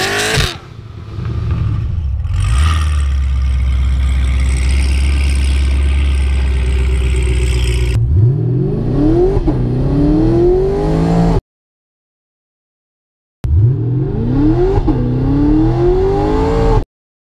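A Chevrolet Camaro launches from 0 to 60, its engine revving hard through rising gear pulls. The engine cuts out briefly, then another loud run climbs steadily.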